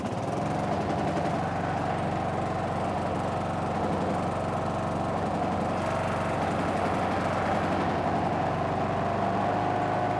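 An old Snapper riding mower running after starting, its small engine settling into a steady, close, rough idle that drones evenly throughout without voices.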